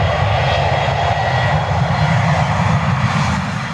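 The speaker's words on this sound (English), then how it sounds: "This takeoff of TACA Flight 110 38 years ago was never supposed to happen." TACA Flight 110 airliner taking off, its engines producing a steady, loud, close roar with deep rumble and no break throughout.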